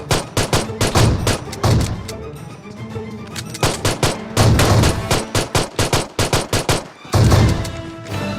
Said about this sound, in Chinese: 我掏出手枪与他们拼了